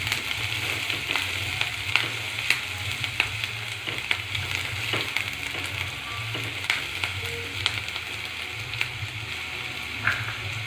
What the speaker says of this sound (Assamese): এই সকলোখিনি দিয়াৰ পিছত আমি এইখিনি ভালদৰে তেলত ফ্ৰাই কৰিম।